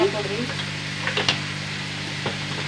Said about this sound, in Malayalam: പിന്നെ ഒരു സ്പൂൺ ചെറിയൊരു സ്പൂണ് ഗരം മസാല ഗരം മസാല ഇട്ടാ നന്നായിട്ട് വഴറ്റുക നന്നായിട്ട്